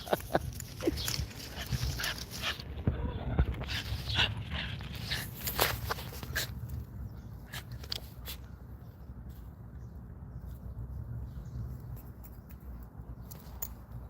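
A dog moves and whimpers close by indoors over a steady background hum, with shuffling, scratching and brief footstep-like sounds, and no talking.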